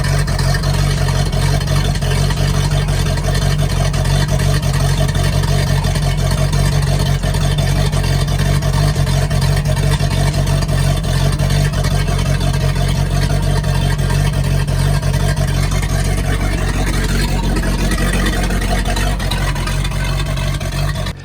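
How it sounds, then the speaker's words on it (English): A 1997 Carver 260SE motorboat engine, freshly tuned with new cap, rotor and spark plugs, drones loudly and steadily for a long stretch, a constant low rumble with a slight shift in pitch near the end. "we have a much better, more efficient running boat now"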